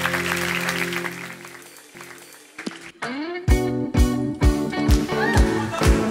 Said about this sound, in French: On les applaudit encore très fort, s'il vous plaît